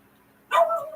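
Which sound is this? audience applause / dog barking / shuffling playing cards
dog barking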